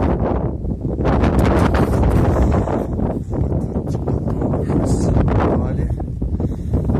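Strong gusty wind buffets the microphone with heavy low rumbling outdoors during repair of an SZ-3.6 seed drill, while a few brief voices come through underneath.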